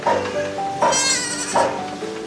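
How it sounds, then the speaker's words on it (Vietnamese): Goats on a farm give three loud, close, wavering bleats in quick succession, each call rising sharply then trailing off. "Dê con này."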